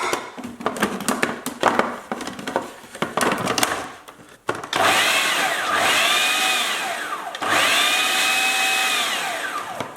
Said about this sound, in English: I'll put the onions inside the food processor and try and get it chopped up a bit